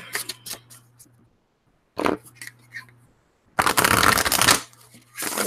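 Oracle cards are shuffled in close bursts: quick riffling flutters, a pause, another brief shuffle, then a longer, louder card-shuffling run, with soft handling sounds between.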